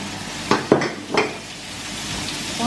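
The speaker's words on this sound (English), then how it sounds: "When the vegetables are sizzling, I'll go ahead and cut my onions." Vegetables for Czech svíčková sizzling in a hot frying pan, a steady crackling hiss broken by a few sharp clatters of stirring near the start.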